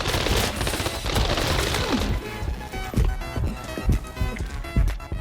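Rapid bursts of gunfire crackle loudly in the video game Arena Breakout: Infinite, a dense volley at first, then scattered sharp shots and impacts.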